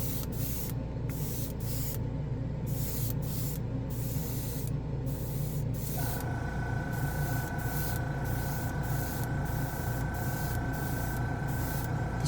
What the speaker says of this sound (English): spray them on the same spoon, same base, same airbrush